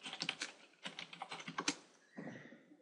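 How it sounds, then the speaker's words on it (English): Fingers tap rapidly on a computer keyboard, close and fairly quiet, in three quick bursts of keystrokes with short gaps between. "just very simply just type in BuddyPress"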